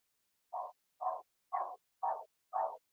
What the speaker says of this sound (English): My neighbor dog, it seems to happen every Sunday